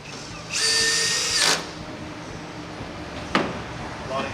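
A power drill drives a supplied screw into the wall to mount a RolaCase wire spool rack. One loud, close whirring burst lasts about a second, followed by quiet room tone and a single sharp click.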